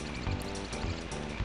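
Video-game frogs from Diddy Kong Racing give a few quick, evenly spaced croaks over continuous game music, brief and clearly audible.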